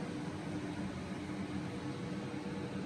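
A Kmart Anko twin air fryer runs with a steady, even whoosh of fan and air, a constant close drone with no breaks and no talking.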